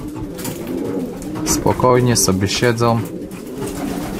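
Racing pigeons coo in a loft in the Kalisz district, with several soft, repeated throaty calls rising over a steady background. People talk nearby over the birds.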